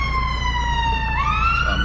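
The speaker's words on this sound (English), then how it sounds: "Ambulance." An ambulance siren wails nearby over a low rumble of road traffic, its tone sliding down and then jumping back up in a loud, clear sweep.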